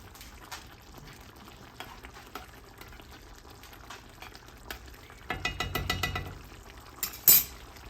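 A pot of chicken coconut curry simmers with soft, low bubbling, then louder stirring and a brief clatter near the end.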